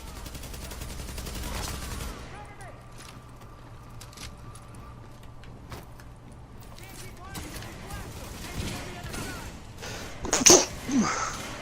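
A single sharp sneeze near the end, close and brief, rising out of a background of in-game gunfire and city ambience in a Division mission set at a seized parking garage.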